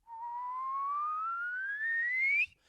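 A master whistler whistles one clear, steady note that glides slowly upward in pitch, then cuts off sharply, close and alone.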